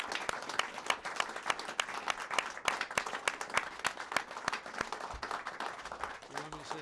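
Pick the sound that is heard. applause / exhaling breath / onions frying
applause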